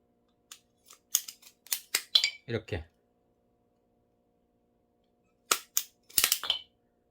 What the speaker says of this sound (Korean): 그래서 저는 전지가위, 이게 라첸용이라서 힘을 많이 줄 수 있습니다.